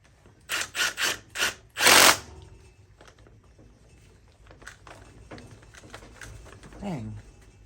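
A power tool drives bolts during a Yamaha YXZ 1000 transmission install, four quick loud whirring bursts followed by a longer one, then quieter ratcheting clicks and handling.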